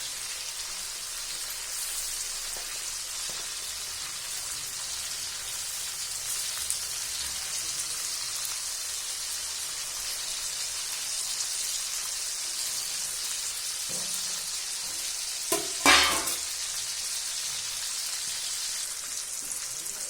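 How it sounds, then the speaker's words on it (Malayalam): Mackerel coated in chili frying in a pan, a steady hissing sizzle like light rain that runs throughout, with a few faint clinks and a louder clatter of handling near the end. "അയിലച്ചമ്പാൻ മുളക് പുരട്ടിയിട്ട് വറുത്തെടുത്തു"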